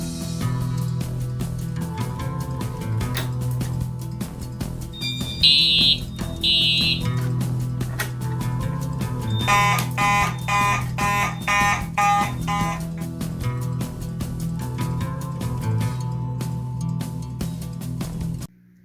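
A System Sensor MASS fire alarm system under test sounds continuously with a steady loud tone, joined partway through by higher pulsing beeps and bursts of harsh electronic whooping.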